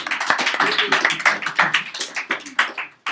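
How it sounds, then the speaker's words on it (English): A small seminar audience gives a round of applause: dense, close hand claps in a quick uneven flurry that fades out near the end. "Round of applause for Nick."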